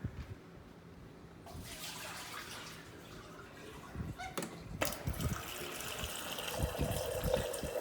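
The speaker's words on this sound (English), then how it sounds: "to continue purging the water until the water becomes crystal clear." Water runs from the dispenser of an LG French door refrigerator while the new LT700P filter is flushed, a steady stream splashing into a container, fairly quiet and close with some brief clatter partway through.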